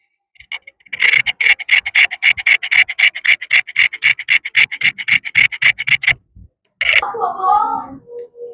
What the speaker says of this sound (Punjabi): ਆਵਾਮ ਨੂੰ ਆਪਣੇ ਚਾਹਣ ਵਾਲਿਆਂ ਨੂੰ ਆਵਾਜ਼ ਸੁਣਾ ਰਹੇ ਹਾਂ ਕੈਂਚੀ ਦੀ।